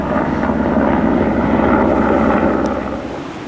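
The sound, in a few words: helicopter flying overhead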